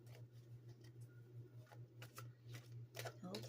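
Quiet riffling and snapping of tarot-style cards being shuffled during a card reading, a series of soft irregular flicks over a steady low hum, with faint talk in the background.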